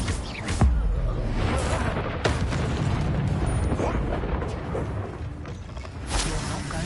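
Incendio fire spell bursting in Hogwarts Legacy, a sharp blast at the start followed by sustained roaring, crackling flame and combat noise, with further bursts near the middle and end and a voice talking over it.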